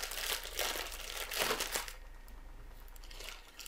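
Crinkly plastic packaging around a pack of cotton pads rustles and crumples loudly and close for nearly two seconds, then fades to quieter, lighter crinkling with no talking.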